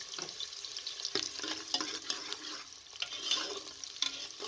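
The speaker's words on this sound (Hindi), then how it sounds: "प्रेशर कुकर के अंदर मैंने हाफ कप कुकिंग ऑयल डाला है और इसके अंदर प्याज को डाल दें।" Onions sizzle steadily in half a cup of cooking oil inside a pressure cooker over a medium flame, a continuous close frying hiss broken by sharp clicks of stirring.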